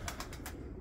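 A play pigeon startled into flight, its wings giving a few quick, close flapping bursts over a steady outdoor background in under a second.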